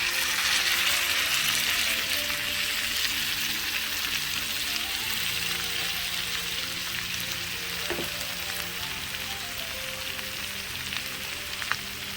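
Chana dal and amaranth leaves fry in hot oil, a steady, close crackling sizzle that carries on throughout with an occasional stir or clink against the pan.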